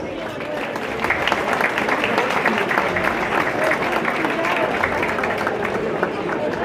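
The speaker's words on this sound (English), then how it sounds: "please give yourselves a round of applause" A crowd at the New York City St. Patrick's Day Parade breaks into loud, sustained applause, steady clapping that fills the space with some cheering mixed in.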